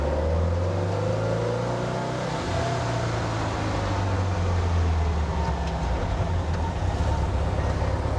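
Car engine fed by dual Weber 40 IDF carburettors under load while driving, a loud continuous droning hum whose pitch rises and sags unevenly as it runs lean and stumbles.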